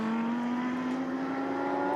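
An Aston Martin GT race car leaving the pits at the Misano 12-hour endurance race, its engine holding a steady, loud drone with a rising tone as it pulls away.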